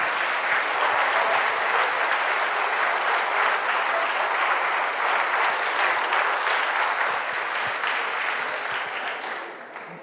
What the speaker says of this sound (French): les applaudissements parlent d'eux-mêmes